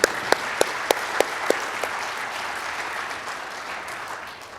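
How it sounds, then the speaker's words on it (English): Audience applause at an awards ceremony, a handful of sharp claps at the start giving way to a steady wash of clapping that slowly fades. "so let's give them a round of applause"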